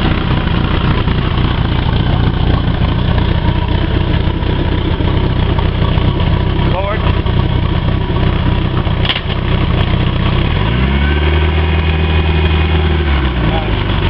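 Bayliner Capri boat with a Cobra stern drive running, its engine idling in a steady loud rumble throughout, with a dip and rise in tone late on as it shifts and takes a little throttle.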